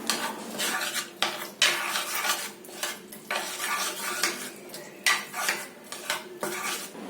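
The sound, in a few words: mixing kimchi paste with chopped onion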